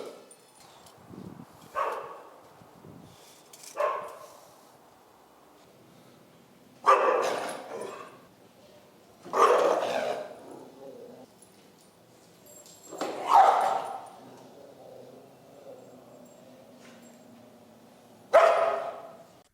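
Dogs at a dog training facility let out separate, loud, close barks spaced a few seconds apart, with quiet stretches between them and no talk.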